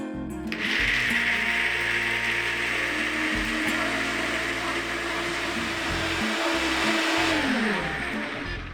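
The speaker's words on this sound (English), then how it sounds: "have my corn in the blender. I'm going to press my little side button here and it's going to go," A blender whirs loudly and steadily, blending corn for cornbread, with the motor pitch shifting slightly as it runs continuously before winding down near the end.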